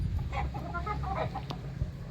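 Gamecocks and chickens kept for fighting cluck close by in a series of short, choppy calls, with a low background rumble beneath the birds.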